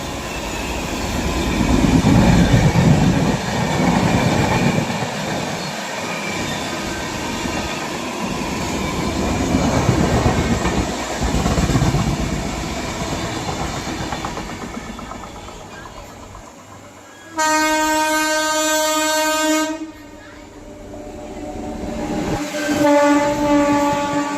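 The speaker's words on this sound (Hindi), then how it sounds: "Crossing Visakhapatnam Amritsar express." Visakhapatnam–Amritsar Express rumbling past at a railway crossing, a long loud wash of wheels and wagons, then a sustained train horn blast near the end before the rolling noise resumes.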